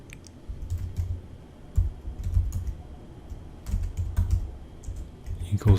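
Fingers tap quickly on a computer keyboard in uneven bursts of close, crisp clicks, with short pauses between the runs of keystrokes.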